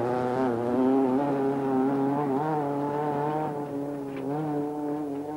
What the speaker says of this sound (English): But he continues on the rim.